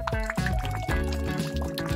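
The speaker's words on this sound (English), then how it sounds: "I'll just pour in the milk." Milk pours into a breakfast bowl with a close, bubbling gurgle and splashing trickle that keeps flowing throughout.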